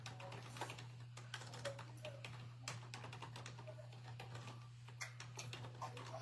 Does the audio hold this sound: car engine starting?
no